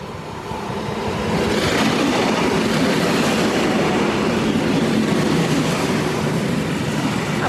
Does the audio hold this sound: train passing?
yes